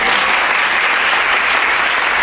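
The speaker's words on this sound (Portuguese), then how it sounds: "palmas para ela" Dense, loud applause from a lecture audience, a continuous wash of many hands clapping close by with no talk over it.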